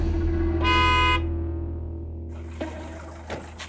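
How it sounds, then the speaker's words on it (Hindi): A single short car horn honk sounds in traffic on a street, loud and close, followed by fading background traffic noise and a couple of faint knocks. "ये क्या हॉर्न बजा रहा बार बार?"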